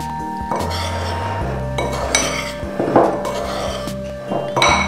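Ground poppy seed and gluten-free self-raising flour stirred together in a bowl, with repeated clinks and scrapes of a utensil against the dish under a steady hum.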